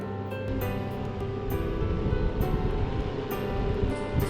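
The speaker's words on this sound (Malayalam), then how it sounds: "വെറും 20 വാട്ട്സിലാണ് ഈ ഒരു എക്സോസ്റ്റ് വർക്ക് ചെയ്യുന്നത്" A 20-watt exhaust fan in a 52-inch-tall room air cooler runs close by, giving a steady, even whoosh of moving air that holds throughout with no talk.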